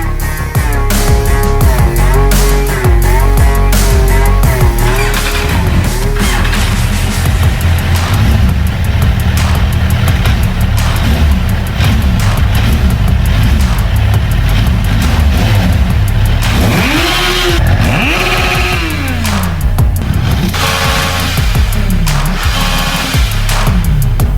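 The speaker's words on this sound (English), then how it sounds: "because now this bike can start up perfectly" A refurbished 2007 Kawasaki Z1000 motorcycle engine running loud and close, a continuous rumbling idle with several revs rising and falling, no voices.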